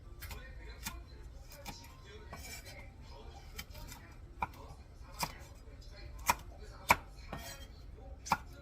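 Knife chopping through four cheongyang chili peppers on a cutting board, cut diagonally for spicy blue crab stew; sharp, irregular taps spaced roughly half a second to a second apart, close and crisp over a low background hum.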